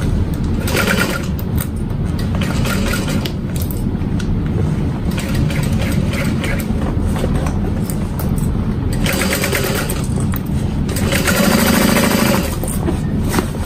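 A sewing machine stitches a barrel bag in long, steady runs of rapid mechanical chatter close to the mic. The stitching carries on nearly unbroken for several seconds, and no one speaks.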